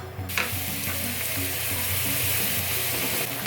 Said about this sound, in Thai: เคี่ยวกับน้ำปลานะคะ